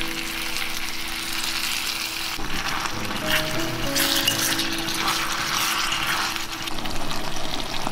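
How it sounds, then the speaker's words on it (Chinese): Sauce is poured over pork belly, shiitake and fried tofu sizzling in a clay pot, and the steady hiss of frying gives way to a louder, splashing, bubbling rush of liquid. "把刚刚调的料汁淋进来"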